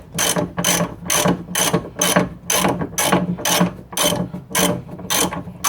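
Ratchet wrench tightening a rear sway bar link bolt on a 2004-2008 Pontiac Grand Prix: about a dozen evenly spaced, close, loud clicking bursts in a steady back-and-forth rhythm, with no talk.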